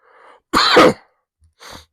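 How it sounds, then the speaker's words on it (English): A single harsh, explosive cough up close, followed by quieter breathy sounds and a short exhale. "I got a cough."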